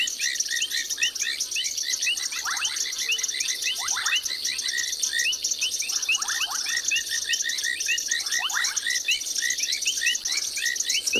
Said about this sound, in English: So there's 5 different species of frogs so far that I've heard at the moment.